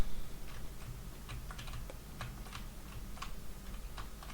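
A computer keyboard is tapped in a steady run of quick, close keypresses, some clustered and some spaced, as it drives a mini-sumo (Nsumo) robot. No voices are heard.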